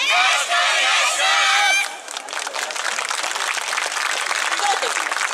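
A crowd at a yosakoi dance event in Yotsukaido city plaza, 2017, cheers loudly and claps, the roar shifting into sustained applause that continues steadily to the end, with no speaking voices.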